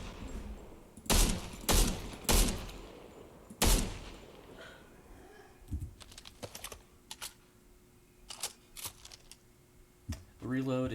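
Cobra DMR rifle firing in the video game Fortnite: several loud, sharp shots spaced a second or so apart, followed by quieter mechanical clicks and smaller snaps scattered through the rest.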